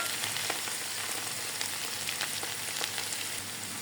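Unripe jackfruit fries in a pan with chili powder and is stirred, giving a soft, steady sizzle with faint scraping stir sounds at close range and no talk.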